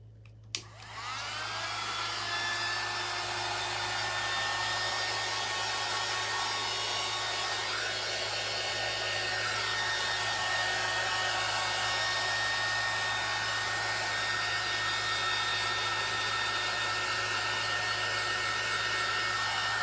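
A hair dryer blows steadily to dry a handmade faux deer skin sign, starting with a brief click and then holding one loud, even whir close by for the rest of the clip, with no talking.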